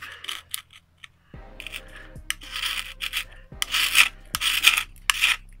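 A tool scrapes old, soaked gasket material off a Toyota 1UZ V8 engine surface in short, close, gritty rasping strokes with pauses between, over a low steady background hum.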